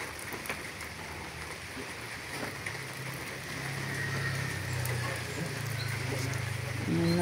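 Steady rain falls at an outdoor site where a comfort room is being built, a dense, even patter and hiss that grows slightly louder toward the end, with faint voices in the background.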